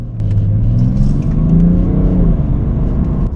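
A BMW 335d xDrive diesel engine rises in pitch as it accelerates on the road, a loud continuous close-up rumble with a steady whirring drone and no talking.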